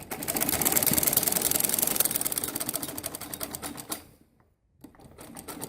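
A sewing machine runs steadily for about four seconds while stitching the waistband (nefa) of a samosa-style salwar, a loud close whirring with rapid needle clatter, then a brief pause and a restart.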